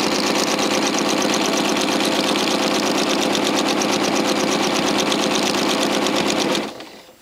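A sewing machine running steadily at high speed while stitching free-motion quilting spirals, a loud, close, continuous rapid mechanical whir lasting about six and a half seconds before the needle stops and the sound cuts off abruptly.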